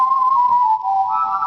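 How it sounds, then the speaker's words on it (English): A Lowrey EZ4 organ plays its whistle voice: a clean, steady whistled melody line, loud and close, with a brief dip before rising to a higher note. "It can whistle."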